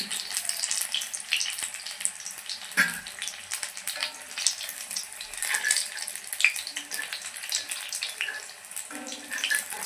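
Pumpkin pakoras frying in hot oil for a crispy snack, giving a steady broadband crackle and hiss with scattered pops, moderately loud and continuous throughout.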